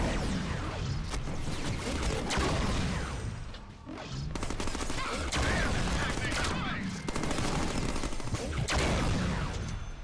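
Dense, loud video game gunfire in a Deadpool game, bursts of rapid shots and crashing impacts filling the whole span with only brief lulls.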